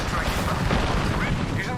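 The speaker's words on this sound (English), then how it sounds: "Shots fired and they're hitting me." Dense, continuous gunfire and explosive rumble from an Apex Legends firefight, a loud wash of shots with no clear gaps between them.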